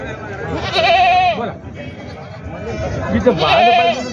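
Goats bleat loudly and close by, two drawn-out calls a few seconds apart, with people talking nearby at a crowded goat market in Jawala, Maharashtra.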